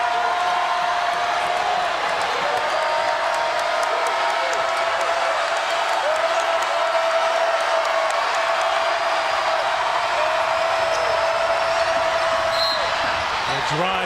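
Sellout crowd at a Nevada versus Loyola Chicago college basketball game, a loud continuous arena roar with a rising whoop, sneaker squeaks and bouncing balls, under commentators talking.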